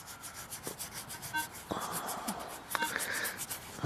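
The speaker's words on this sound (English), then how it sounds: "I'll give it a burnish with my thumb." Thumb rubbing and burnishing a freshly dug metal-detecting find, a close, soft scratchy friction in short uneven strokes with a brief louder scrape near the end.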